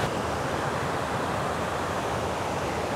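Water runs through a water feature on a golf course in Maine, a steady, loud rushing wash, close and continuous, with no voices.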